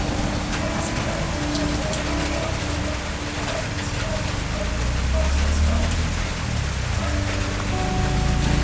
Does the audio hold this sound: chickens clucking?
no